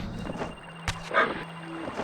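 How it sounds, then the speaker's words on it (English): Dogs barking in the background while a Soul Reaver 2 game plays, a couple of short sharp bursts with game sounds around them, faint and brief. "Oh, there go my dogs."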